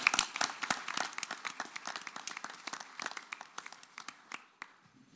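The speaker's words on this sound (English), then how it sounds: "let's give an applause for our awardees" A small audience at a utility board of directors meeting claps for awardees: scattered, distinct hand claps at moderate distance that thin out and fade over about five seconds.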